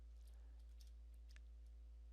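Typing on a computer keyboard beside a Dell OptiPlex 5080, with a few soft scattered key clicks, faint and close, over a strong steady low electrical hum.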